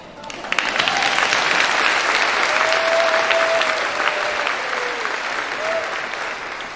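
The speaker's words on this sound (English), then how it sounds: "Can we just start off this graduation ceremony with a huge round of applause" A large crowd at a high school graduation ceremony breaks into loud, dense applause that swells quickly and holds steady, with a few faint whoops and voices rising over the clapping.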